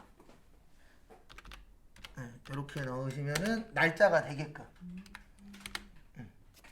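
Fingers type at a computer keyboard while entering a date into a spreadsheet cell, a quiet scatter of soft key clicks under and around someone speaking nearby.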